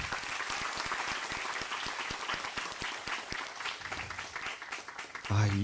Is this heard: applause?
yes